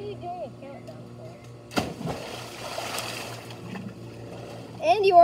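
Water splashes in a backyard swimming pool, with a sharp splash burst near the middle and lighter sloshing afterward, heard up close under children's chatter and exclamations.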